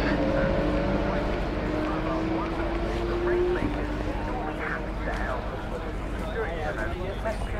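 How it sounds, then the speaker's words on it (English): F3 race cars at the Silverstone British Grand Prix roar from a distance, their engines rising and falling as they pass, under close conversation and campsite bustle. "You can hear the F3 race going on right now."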